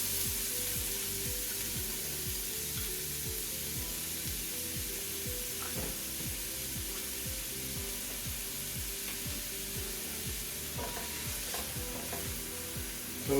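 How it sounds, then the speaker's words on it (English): White onion sautéing in avocado oil in a pan, a continuous even sizzle with a steady rhythmic scraping stir running throughout, close and unbroken. "We're going to saute our onion first."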